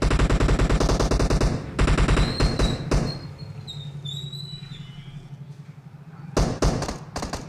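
Bursts of gunfire from an insect character's weapon in a video game, loud rapid repeated shots in clusters with brief gaps, plus a few high squeaky chirps in the middle.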